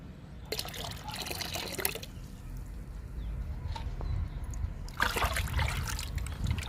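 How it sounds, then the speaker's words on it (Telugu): Water from soaking lemon peels poured into a homemade liquid pest spray, a close trickling pour in two bursts, early and again near the end, over steady low background hum. "నిమ్మకాయ తొక్కల్ని నానబెట్టాం కదండి ఆ వాటర్ని కూడా ఇందులో కలుపుకుందాము"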